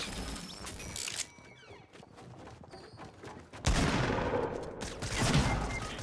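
Automatic AR rifle fire in a Fortnite match, bursts of gunshots crackling in short clusters, louder and denser toward the end, with other game sounds mixed in.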